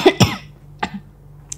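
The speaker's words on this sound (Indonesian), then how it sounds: "Batuk" A few sharp coughs from a person sitting near the front stairs of a grandmother's house in a mountain village, two close together then a softer one, with a faint click at the end.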